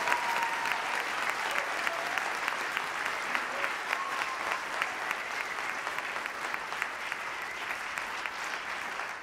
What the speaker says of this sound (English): ask you, audience, if you could help me give a round of applause to the Guggenheim and to the Lyric Opera of Chicago